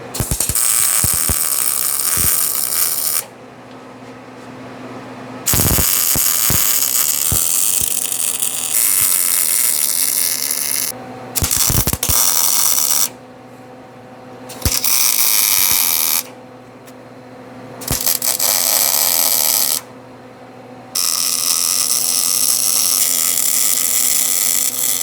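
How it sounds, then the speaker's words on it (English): Welding nuts and metal pieces together while building a front-mount HEI distributor for an LS 5.3, a loud steady buzzing crackle in long bursts separated by short pauses, with sharp pops at the start of some runs. "Anyway, let's get this welded up."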